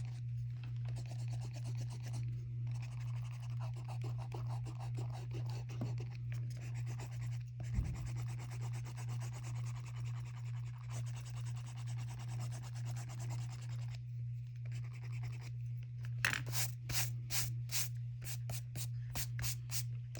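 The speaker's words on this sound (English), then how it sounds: "And then I'm going to erase my pencil lines." Pencil eraser rubbed back and forth over pencil lines on paper, a steady scratchy rubbing that runs close and continuous with a constant low hum underneath, ending in a series of quicker strokes.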